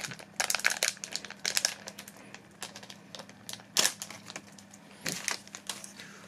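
A Digimon TCG Special Booster Ver 1.0 pack is torn and pulled open up close, with crisp foil crinkles and sharp rips coming in irregular bursts over a quiet background.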